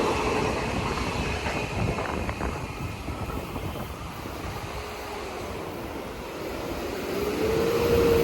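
A Babylon-bound through train rolls past Lynbrook station, New York, without stopping, in a steady, heavy rumble that swells again toward the end, with a faint tonal whine rising near the finish.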